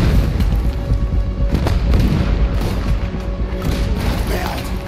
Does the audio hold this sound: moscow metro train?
no